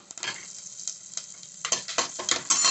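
Curry leaves dropped into hot oil for a tempering, bursting into sharp crackling pops and sizzles that grow denser and louder toward the end, close up and alone.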